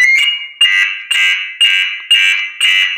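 A home alarm system beeps loudly and close, sounding six long, evenly spaced shrill tones in a steady repeating rhythm, with no talking over it.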